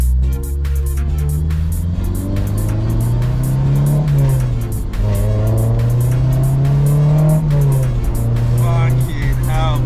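A rebuilt Honda S2000 revs hard on the road, its engine repeatedly climbing and dropping in pitch through gear changes, loud and close from inside the car with constant wind and road noise.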